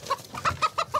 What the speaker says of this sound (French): Ce sont des coqs d'ornement, des bêtes à concours.